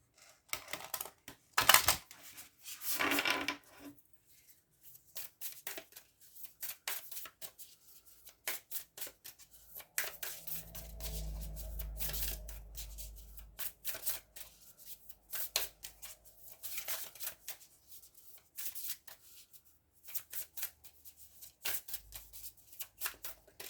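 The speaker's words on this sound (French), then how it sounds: "On va regarder avec l'oracle de la voix des âmes pour avoir une deuxième carte." Oracle cards being shuffled for a second draw, bursts of papery riffling and flicking that come and go with quiet gaps between, fairly faint and close.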